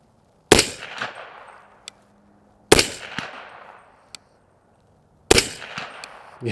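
Three sharp, loud reports from a 300 Blackout rifle firing supersonic loads, each crack followed by a short decaying echo off a nearby shed and a faint click, spaced a couple of seconds apart outdoors.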